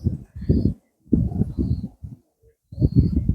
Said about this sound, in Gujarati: જો નેકરું કબૂતર જ છે મિત્રો